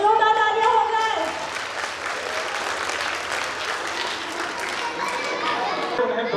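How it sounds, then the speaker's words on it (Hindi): An audience at a school annual function applauds, a voice trailing off at first before steady crowd clapping fills the rest, moderately loud with some chatter underneath. "तो जोरदार तालियां हो जाए।"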